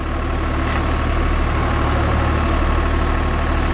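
A heavy Sonalika diesel tractor engine runs steadily with a low, constant rumble and a dense mechanical drone, close and unchanging throughout.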